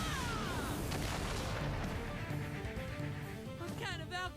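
Booming cannon blasts and crashing impacts in an animated fight, loud and layered under energetic voices.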